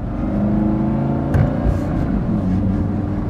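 A Lamborghini Gallardo Superleggera drives in regular mode with an F1-style automated gearbox, giving a steady close engine drone with a brief surge and shift around midway, no talking.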